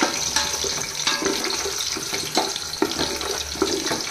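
Small onions sizzle in hot oil in a pan while frying for chicken biryani, making a steady crackling hiss with occasional stirring clicks, close and without talk.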